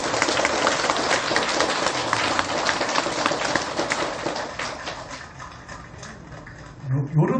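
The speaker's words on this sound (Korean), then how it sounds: "박수 한번 쳐야지." An assembly at a Buddhist temple dharma talk applauds in a dense, loud burst that gradually fades, ending with a brief low thump as the clapping dies away.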